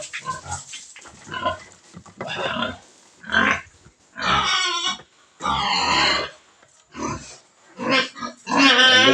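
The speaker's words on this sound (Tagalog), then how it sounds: "Magdigot tayo ng baboy," A pig grunting repeatedly up close, with short, rough, throaty bursts coming in an uneven rhythm, some stretched into longer snorting oinks, with no one talking.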